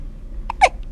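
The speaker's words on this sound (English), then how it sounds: "We gotta get those hiccups away." A young boy gives a single sharp, close hiccup, a brief voiced catch over quiet room background.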